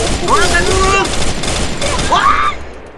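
Video game gunfire in a shooter match, bursts of shots under a busy mix of game effects and someone talking excitedly over it.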